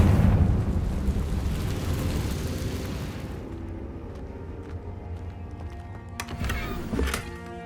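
A Confringo fire spell erupts in Hogwarts Legacy with a loud, broad blast that rumbles and fades over several seconds, followed by sharper crackling impacts and ringing tones near the end.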